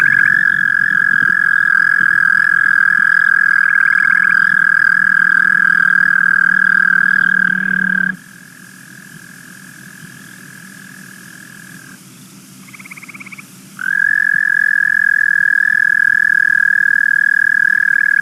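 Eastern American toads call in long, loud, high-pitched trills near a vernal pool in early summer; a sustained buzzing trill drops away midway, a fainter one continues, then the loud trill resumes, with other frogs faint behind.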